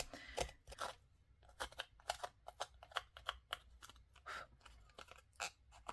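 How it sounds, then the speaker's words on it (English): Scissors snip the edges of paper to roughen them in quick, irregular bursts of crisp cuts, close up and fairly quiet, with short pauses between clusters of snips. "let's go on with our scissors and roughen the edges here a little bit"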